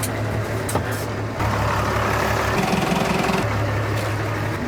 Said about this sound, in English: Let's turn around the blue tractor.